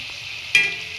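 Gujiya deep-frying in oil in a kadai, a steady close bubbling sizzle that swells into a brief louder crackle midway and then settles back to an even hiss.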